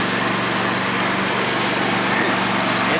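Riding lawn mower engine running loud and steady with the rebuilt mowing deck engaged through the power takeoff, a close, continuous high-pitched drone and whine without a break.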